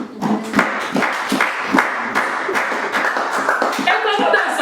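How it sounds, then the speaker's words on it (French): Church congregation clapping loudly in praise during a service, a dense run of sharp handclaps going on throughout and mixed with voices and a few chuckles. "est-ce que tu peux applaudir très fort pour le Seigneur?"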